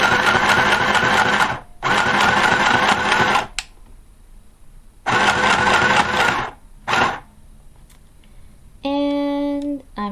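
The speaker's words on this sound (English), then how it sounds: "Lower the presser foot and continue to sew." A mini sewing machine stitches through cardstock in loud, rapid mechanical bursts lasting a second or two, separated by short pauses and a few clicks, ending with a brief whirring tone.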